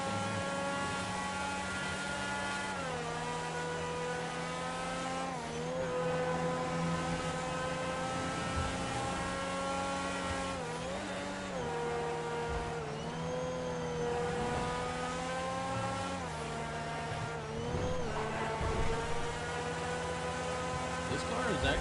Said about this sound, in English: I do like that race car-esque sound, or that V12.